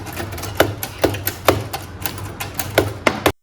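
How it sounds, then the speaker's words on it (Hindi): Keys of an old typewriter on a desk at a tea resort in Siliguri being struck one at a time, giving sharp, close clacks in a slow, uneven rhythm, about a dozen in all, with no one speaking. "मुझे जब कभी भी कोई टाइपराइटर दिखेगा"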